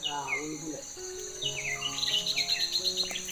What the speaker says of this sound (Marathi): पक्ष्यांचा आवाज बघा, बुलबुलचा आवाज आहे